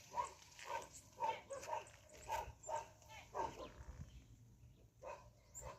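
Several dogs barking in a Jamaican backyard garden, a steady run of repeated barks at moderate distance, somewhat loud, with brief pauses and no talk over them.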